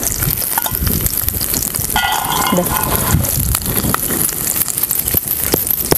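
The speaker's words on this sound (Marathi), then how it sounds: "कांदा नीट चांगला भाजून घ्यायचा" Chopped onion frying in hot oil for a bitter gourd curry, with peanuts and cumin-mustard seasoning in the pan, makes a loud continuous sizzle with stirring scrapes and light clinks, and people talk over it.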